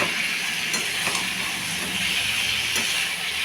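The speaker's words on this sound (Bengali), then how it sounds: "আলুটাকে কী করবো, নাড়াচাড়া করবো ভালো মতন।" Spiced potatoes frying in a pan, a steady loud sizzle and hiss with a few faint scraping stirs of the spoon against the pan.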